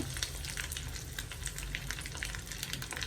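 Chilies and mustard seeds sizzle in hot oil, a continuous quiet crackling fry with small pops scattered throughout, heard close with no voices.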